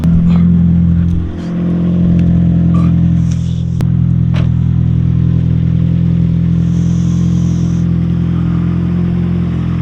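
A car engine idles with a steady, deep low rumble close by, holding a constant throaty tone throughout without strong revs.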